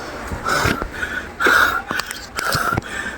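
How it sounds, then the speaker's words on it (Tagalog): Heavy, rhythmic breathing of someone exercising in hot weather, with loud wheezy gasps in quick repeated bursts close to the microphone and no talking. "Nadagdagan nga lang yung hingal."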